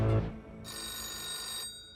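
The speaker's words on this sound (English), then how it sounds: "she gets a sudden phone call" A telephone bell rings in one steady, bright burst lasting about a second, heard alone at moderate loudness after a brief low thump.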